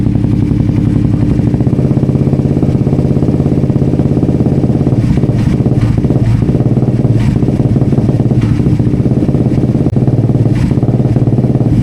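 A Suzuki GSX 150 motorcycle with an aftermarket exhaust idles loudly up close, its engine throbbing steadily under a few light blips of the throttle toward a few thousand RPM, with no talking.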